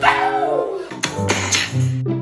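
A cartoonish dog in the Roblox game Brookhaven gives a whining yelp and then a few short barks, loud and close, with no talk over it.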